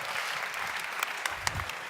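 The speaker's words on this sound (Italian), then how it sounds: "Grande, un applauso." Applause at a diploma celebration for graduates of an academy, a soft, steady patter of many hands with a few sharper claps, moderately distant and continuous.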